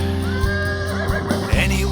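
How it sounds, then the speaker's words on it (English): A horse neighs in a short, loud whinny with a rising and falling pitch, heard close and alone over a steady background. "Unless you count Bucephalus, but he's a horse."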